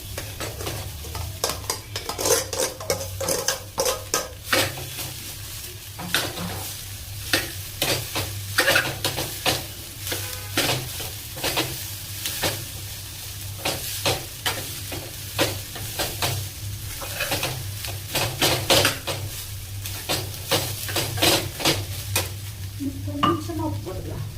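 Potatoes fry in a pan for white kurma with a steady sizzle. A spoon stirs them in quick, repeated scraping strokes against the pan throughout, close and clear, and no one speaks.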